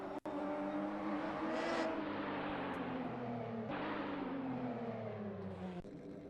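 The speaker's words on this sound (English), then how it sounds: "this is the Porsche we're talking about. Just a brilliant engine noise." A Porsche race car engine in a racing video game, qualifying at Daytona, roars and shifts through gears, pitch climbing and dropping in sweeps, loud and steady with no talking.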